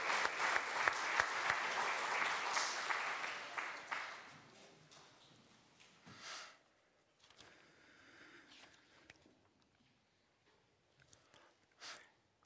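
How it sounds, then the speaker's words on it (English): Church congregation clapping during a worship service, a dense burst of applause for about four seconds that fades out, followed by quieter room shuffling and a few faint sounds. "Let's praise God by clapping for God's Word."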